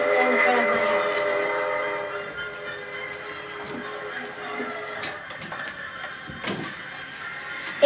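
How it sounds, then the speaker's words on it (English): A steam train standing still in front of a house on a snowy day, wrapped in steam, gives off a continuous airy hiss with layered metallic squeals and tonal whines, plus scattered clanks and creaks. "From outside came the sounds of the hissing and squeaking metal."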